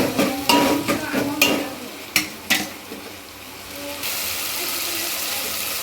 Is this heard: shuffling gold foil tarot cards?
no